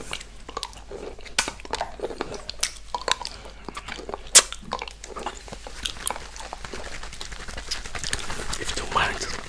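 Close wet mouth sounds of licking and eating a lollipop topped with whipped cream, soft smacks and slurps with scattered clicks and occasional louder lip pops, intimate and quiet.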